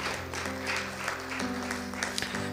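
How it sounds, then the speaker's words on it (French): A church congregation claps for the pastor at a Sunday service, with quieter scattered applause over a sustained tonal hum, like organ or keyboard chords, lasting the whole stretch. "On peut lui donner une main d'applaudissement."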